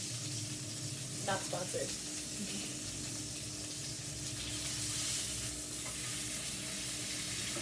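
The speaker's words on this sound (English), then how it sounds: "when you put a liquid in it, it kind of gets like so hot that stuff releases, so you deglaze the bottom of the pan" A hot pan sizzles steadily as liquid is poured in to deglaze the bottom, a continuous bright hiss that holds at a moderate level throughout, with a brief voice speaking near the start.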